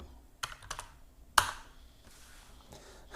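A few scattered key taps and a sharper click on a computer keyboard during a cut-and-paste, close and quiet, with short pauses between presses and no talk.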